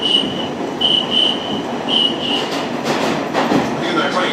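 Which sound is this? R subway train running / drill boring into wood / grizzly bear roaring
R subway train running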